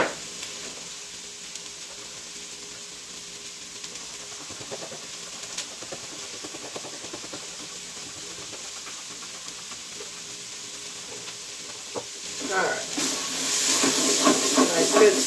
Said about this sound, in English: We're going to whisk it into the milk first to try to stop some of the clumps